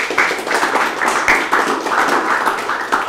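Audience applause for the stickmaster and majorette of the IPDN Gita Abdi Praja drum corps, loud, dense and close clapping that rolls on steadily with slight surges and no talking.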